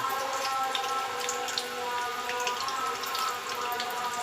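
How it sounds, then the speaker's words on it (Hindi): Water pours steadily into a cooking pot for mutton biryani, a close, continuous splashing and trickling that runs the whole time without speech. "अब इसमें 1 गिलास पानी, थोड़ा सा नमक और थोड़ी हल्दी"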